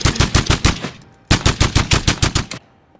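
M21 EBR rifle firing in a video game, rapid loud bursts of punchy shots in two strings with a short pause between, close and sharp with no talk.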